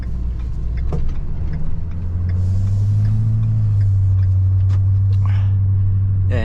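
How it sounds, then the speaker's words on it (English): Cars on Glenmore Trail pass by in a continuous loud rumble. One engine swells close by and holds a steady drone, with light clicks and scattered noises on top and no clear talking. "there's a Glenmore Trail over there, so lots of cars going back and forth"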